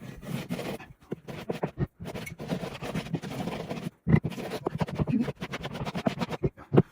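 Frost-damaged OSB board edges being broken and scraped, producing rough, crackling scratchy bursts in irregular clusters with short pauses, fairly close.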